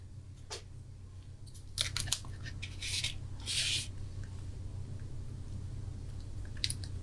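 Scissors snip through paper or card for a handmade card, giving a few short crisp cuts and rustles, close and fairly quiet, with a steady low hum underneath.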